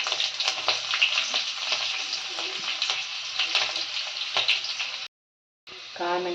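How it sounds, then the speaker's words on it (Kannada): Cumin and mustard seeds crackle and sizzle in hot ghee, a dense, loud, continuous spattering with popping bursts, briefly cutting out near the end before resuming. "ತುಪ್ಪ ಕಾದ ನಂತರ ಜೀರಿಗೆ ಮತ್ತು ಸಾಸಿವೆ ಹಾಕ್ತಾಯಿದ್ದೀನಿ"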